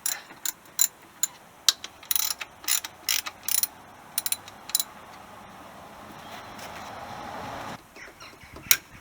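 A wrench ratchets repeatedly while loosening the alternator cable nut on a VW Golf MK2, giving close, sharp clicking bursts in an irregular rhythm, then a steadier rustling hiss near the end.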